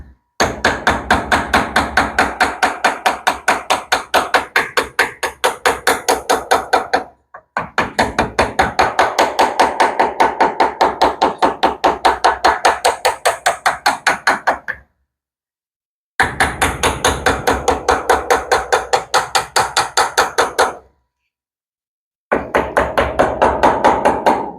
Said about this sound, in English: Then you take your ball peen hammer.